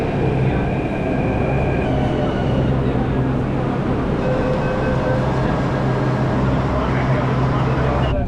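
Steady rumble and rolling drone of a crowded Delhi Metro train carriage in motion, continuous and close throughout, with faint background voices mixed in.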